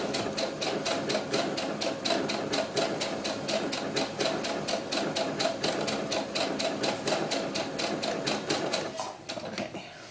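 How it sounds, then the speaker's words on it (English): An overlock serger runs steadily for about nine seconds, its fast needle chatter hammering out an even rapid rhythm close up while stitching a seam on a doll's historical ball gown, then it slows and stops. "then I'm going to just go ahead and overlock this side"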